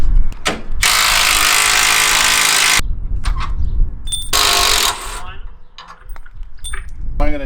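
Power tool removing bolts from a MacDon FD2 combine header, with two loud sustained whirring bursts separated by clanks, jingling metal and handling noise nearby.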